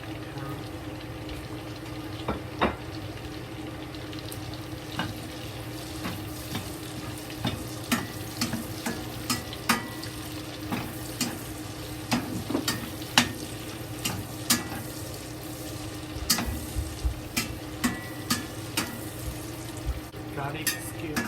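Bacon stir-fried with chopped ginger and carrot in a wok, stirred with chopsticks: loud constant sizzling with frequent clicks and scrapes throughout.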